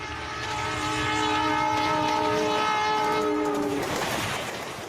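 An Indian Railways express train sounds a long, steady horn for several seconds over the heavy rumble of its passing run, loud and close.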